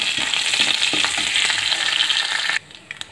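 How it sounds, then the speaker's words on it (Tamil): Steady crackling sizzle of chana dal lentils frying in a pan for Bombay chutney, with light scraping of stirring, then it abruptly drops away to near quiet. "இப்போ பருப்பு வந்து நல்லா வறுப்படட்டும்"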